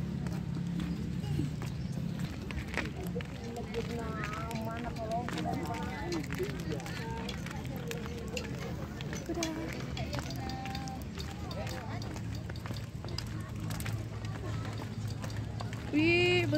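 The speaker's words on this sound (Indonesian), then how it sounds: "Wih, besarnya kudanya" Horse hooves clip-clop steadily during a ride through a pine forest, a continuous rhythmic patter up close, with people talking over it throughout.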